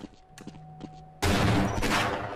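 A shotgun blast in Half-Life: Blue Shift, a sudden loud burst after a quiet stretch of small mechanical clicks, followed by a broad roaring decay.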